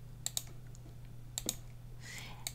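Sharp computer mouse clicks in two quick pairs, near and crisp, over a steady electrical hum, while an editing program's visibility toggle is switched on and off; a soft shuffle follows at the end.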